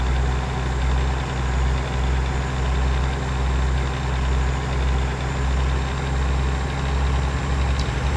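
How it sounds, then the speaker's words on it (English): A 600 horsepower Kenworth truck engine idles with a steady, heavy low rumble that holds constant and loud throughout, with no voices over it. "I'm gonna show you what a 600 horsepower Kenworth can fucking do"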